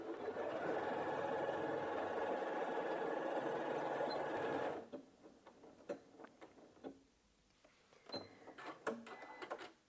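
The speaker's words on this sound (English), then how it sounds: "So I'm just going to drop the needle in and start sewing." A Janome 8200QCP sewing machine runs steadily for about five seconds stitching a decorative tulip pattern, a loud continuous hum that stops abruptly, followed by scattered mechanical clicks and ticks.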